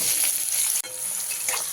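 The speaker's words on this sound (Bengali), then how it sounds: "দেখুন ভাজা হয়ে গেছে দিয়ে দিচ্ছি পেঁয়াজ কুচি" Chopped onions, two medium ones, hit hot oil already frying with cloves, cardamom and a piece of cinnamon, giving a loud, steady, close sizzle that breaks off for an instant and then carries on without any talk.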